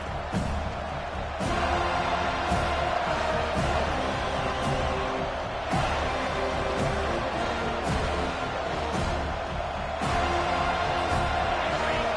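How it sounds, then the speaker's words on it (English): A college football stadium crowd cheers loudly as the home fans welcome the visiting team, a sustained roar that swells in repeated waves with broadcast commentary faintly underneath. "This crowd bringing an ear-splitting welcome to their visitors"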